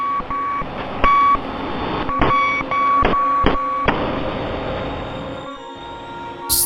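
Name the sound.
Morse code message beeps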